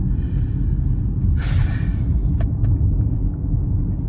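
A car driving and slowing to park, heard from inside as a steady low engine and road rumble, with a brief hiss partway through and a few faint clicks afterward.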